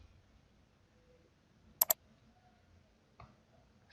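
A computer mouse clicking a submit button: a quick double click in a quiet room, then one softer click a moment later.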